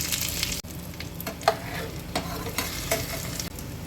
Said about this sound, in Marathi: अशा पद्धतीने हे आपण सर्व कापून परतून घेऊया